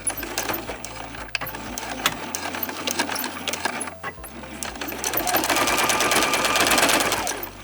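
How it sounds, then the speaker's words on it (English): A sewing machine stitches fabric panels for a beginner fabric bin, its rapid close whirring running in bursts with short pauses and a louder, steadier run toward the end. "So I'm gonna stitch from the top to 1/2 inch away from this corner"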